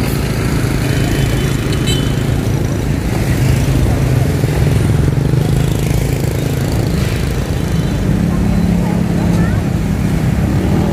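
Continuous loud engine noise from nearby cars and motorbikes fills a street in Ho Chi Minh City's Koreatown, Vietnam, with people talking over the traffic.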